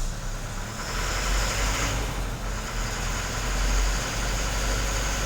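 A Pro 2095XP vehicle engine idles with a steady low rumble and broad hiss, swelling slightly in loudness as the accelerator pedal is pressed, with no talk over it.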